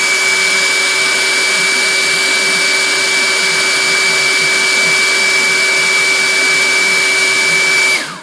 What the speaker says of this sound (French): On fait la même chose, sèche-cheveux.